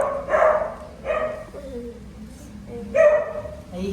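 A dog barks and yips several times in short bursts, close by, with brief pauses between barks.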